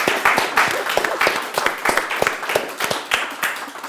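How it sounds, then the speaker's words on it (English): A very small audience at a Bath Digital Festival studio event applauds a panel, with sparse, distinct handclaps from a few people that carry on evenly for several seconds nearby. "I'm going to invite our very small audience to give our panel a round of applause."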